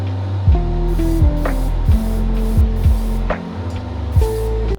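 Sneakers are spray painted green while a steady humming tone and sharp pulsing hisses repeat roughly every half second, loud and close, with no voices.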